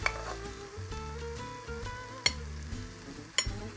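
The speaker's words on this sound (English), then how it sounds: "Kangaroo stir fry, oyster sauce and freshly cracked pepper at the end." Kangaroo meat stir-fries in oyster sauce with a steady close sizzle, while a utensil stirs and scrapes the pan and gives a couple of sharp clinks.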